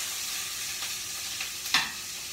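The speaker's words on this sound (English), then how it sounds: "So I've got a pan on nice and hot, oil heating up, and we're gonna start by sauteing onions" Onions sauteing in hot oil in a pan, giving a steady, fairly quiet sizzle with a few soft stirring scrapes and one brief louder scrape near the end. No one speaks.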